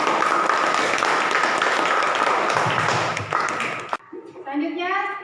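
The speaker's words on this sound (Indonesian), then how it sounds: "Jadi beri aplaus untuk kita semua." A classroom of students applauding, dense clapping for several seconds that cuts off abruptly, followed by a voice speaking.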